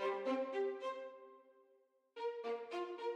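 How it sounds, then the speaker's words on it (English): A synth violin staccato preset plucks out an arpeggiated chord without effects, short bright notes stepping in quick succession, a ringing decay, then a second run of notes; clean, moderately quiet, no voices. "I added a fill harmonic. I used the violin staccato preset."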